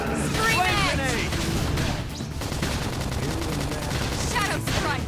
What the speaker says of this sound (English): Now, topple him with some gunfire.